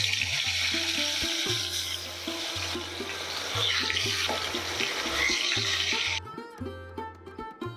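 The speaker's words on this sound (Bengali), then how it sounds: "তেলটা ভালো করে গরম হয়ে গেলে মাছগুলো এক এক করে ভেজে নেব" Katla fish pieces frying one by one in hot oil, giving a steady, fairly loud broadband sizzle throughout, with a low tonal hum or music running underneath.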